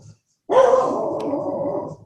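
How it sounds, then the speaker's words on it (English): A dog barks during a lightning storm, one sustained bark-like vocal burst held for about a second and a half, close and loud, with no talk over it. "And now he's barking because there's lightning."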